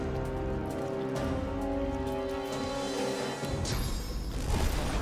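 Rain in the video game Divinity: Original Sin 2 falls as a steady hiss with pattering drops under a faint tonal game score, and it grows slightly louder near the end.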